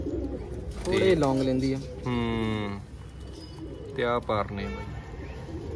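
Pigeons coo in repeated low, throaty bursts close by, mixed with someone talking nearby.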